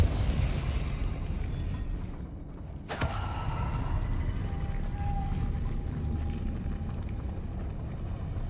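Depulso force spell cast in the video game Hogwarts Legacy: a single sharp, loud blast about three seconds in, cutting through a heavy, rumbling game ambience, followed by a fading creaky tonal ring.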